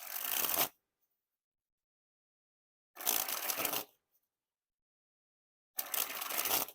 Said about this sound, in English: you got that nice like pop to the noise like of the springs